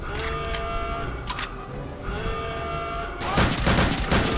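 Gunfire in Return to Castle Wolfenstein, rapid repeated shots with a denser burst near the end, loud and close, ringing over a busy game background.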